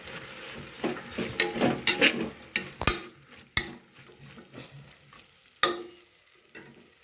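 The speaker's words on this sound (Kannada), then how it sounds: "ಈ ರೀತಿ ಮಿಕ್ಸ್ ಮಾಡಿ ಒಂದೆರಡು ನಿಮಿಷ ರೋಸ್ಟ್ ಮಾಡ್ಕೊಳ್ಳಿ" Vegetables with turmeric, garam masala and salt get stirred and roasted in a pan for vegetable pulao, with a soft sizzle under repeated scraping and sharp spoon knocks against the pan.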